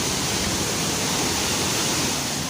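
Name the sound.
Curug Gentong waterfall and river rushing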